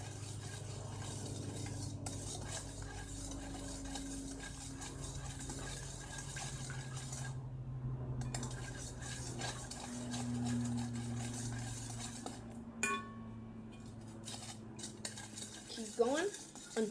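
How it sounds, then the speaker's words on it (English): A tablespoon stirring a borax slime mixture in a bowl, with repeated soft scraping and clinking of metal against the container, close and fairly quiet throughout. "I'm just going to use my tablespoon to mix it."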